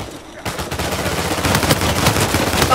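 Dense, rapid gunfire from an Uncharted 4 multiplayer match erupts abruptly and continues loud and overlapping, with a player's voice mixed in.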